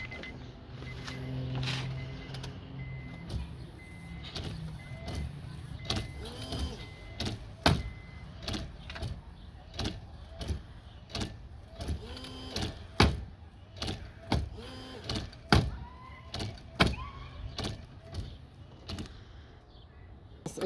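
Car windshield wipers sweep back and forth after adjustment, producing a steady series of rhythmic thumps and squeaky scrapes at regular intervals over a soft mechanical hum, with no talking.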